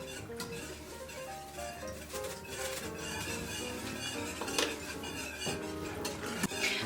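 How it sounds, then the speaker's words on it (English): A spoon stirring milk sauce in a pot, soft repeated scraping and light metallic clinks against the pan, quiet and steady, with faint voices nearby. "The reason we're constantly stirring is milk burns pretty easy"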